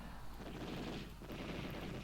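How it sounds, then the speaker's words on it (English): Cannon fire from a Me 262 jet fighter in the flight sim IL-2 1946, only two of its usual four 20 or 30mm cannons firing, a dense continuous rattling burst over engine roar for about two seconds. "this one's only firing 2 of its guns, but usually it would have 4 20 or 30mm cannons"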